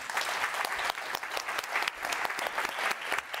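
An audience at a science summit applauding steadily, a dense wash of clapping hands that continues throughout.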